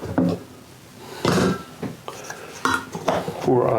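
Lids being put on containers of peanut butter cup moonshine: a few separate hard clacks and clatters of lids and jars on a counter, close and irregular, with quiet handling sounds between them.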